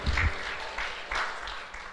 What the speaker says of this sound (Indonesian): tepuk tangan untuk firman Tuhan sekali lagi